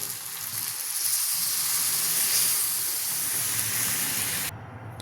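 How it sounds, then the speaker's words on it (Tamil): Coconut milk poured into a hot pan of fish curry hits with a loud, steady hiss and sizzle that swells, then cuts off abruptly at the end. "இப்போ தேங்காய் பால் ஊற்றிடலாம்"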